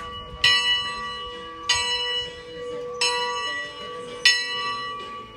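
A large bell is struck four times at a slow, even pace, each clang ringing out and fading before the next.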